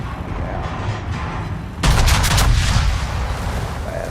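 A heavy naval gun salvo in World of Warships booms out abruptly after a steady low rumble, a loud deep blast that rolls on into sustained roaring noise with no talking.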